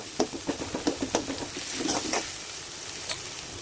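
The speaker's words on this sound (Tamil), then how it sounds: "இப்போ நம்ம கட் பண்ணி வச்சுருக்க வெங்காயம் சேர்த்துக்கலாம்" Chopped onions with fenugreek hit hot oil in a pan, giving a steady close sizzle with a run of crackling pops early on that settle into a softer continuous frying hiss.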